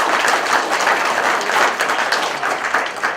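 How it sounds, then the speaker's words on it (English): An audience at a community forum session breaks into loud, sustained applause, with dense overlapping claps filling the room for several seconds. "Let's go ahead and give them a round of applause."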